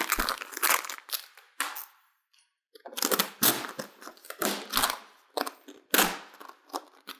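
Vinyl wrap film in burnt maroon is cut and pulled away from a car hood, giving bursts of close crinkling and crackling rustles separated by short silent pauses.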